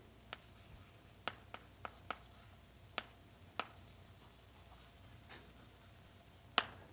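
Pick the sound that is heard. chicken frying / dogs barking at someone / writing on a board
writing on a board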